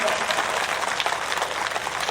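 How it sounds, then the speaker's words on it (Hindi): An audience at a Bhagavat Katha gathering in Jodhpur claps to welcome a visiting Swami, a dense, continuous burst of applause that stays loud and even throughout. "स्वामी जी का जोरदार ताली बजा करके स्वागत अभिनंदन।"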